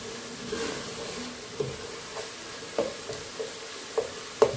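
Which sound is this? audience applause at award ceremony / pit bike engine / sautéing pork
sautéing pork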